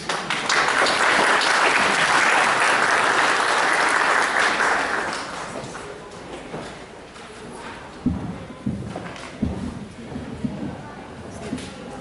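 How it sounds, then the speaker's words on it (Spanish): An audience at a lecture on ethics and research gives loud, sustained applause to welcome speaker Teresa Arrieta. The clapping swells at first, fades after about five seconds, and a few scattered claps and shuffling noises remain. "La recibimos con fuertes aplausos."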